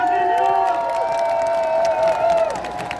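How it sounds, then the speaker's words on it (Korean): Outdoor campaign rally crowd cheering and whooping for the Shouting Korea team at a public plaza, a steady roar of voices with scattered claps and shouts, sustained and fairly loud throughout. "힘찬 일동을 보여준 샤우팅 코리아 팀에게 다시 한번 큰 박수 부탁드립니다"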